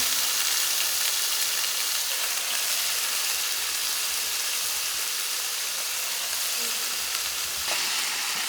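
Tofu pieces frying in a hot skillet give off a dense, steady sizzle and crackle that stays loud and even throughout, with no talking.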